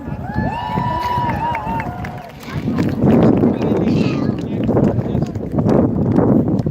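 A large outdoor crowd of over 3,000 people at a No Kings protest fills the air with a dense murmur and rising swells of cheering. Whistles or squeals sound early on, and a voice talks close by.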